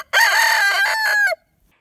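A rooster crows once, close and loud, a single drawn-out call lasting just over a second before quiet returns.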